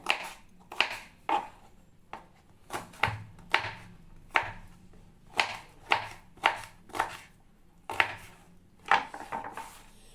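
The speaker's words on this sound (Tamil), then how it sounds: "அதனால நான் சின்ன சின்னதாக நறுக்கிக்கிறேன்" Steady knife chopping of vegetables into small pieces on a board, a quick series of sharp taps in an uneven rhythm, close and clear with no voices.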